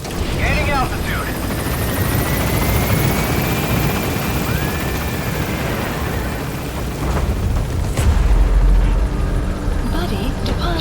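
Pequod helicopter from Metal Gear Solid 5: The Phantom Pain gaining altitude, its rotor drone roaring steadily throughout with a deeper surge of rumble around the eight-second mark, with brief voice chatter near the start.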